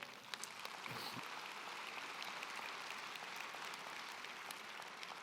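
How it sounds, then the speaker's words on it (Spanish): A church congregation claps for the Lord during a Spanish-language sermon service, steady dense applause filling the room from start to finish at a fairly even level, with no speech over it. "Dale un aplauso al Señor."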